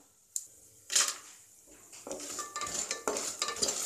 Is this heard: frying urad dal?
yes